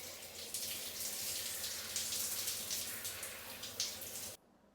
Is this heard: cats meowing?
no